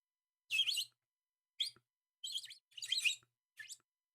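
Bright bird chirps in five short bursts over about four seconds, separated by silence and fairly quiet, with no voices present.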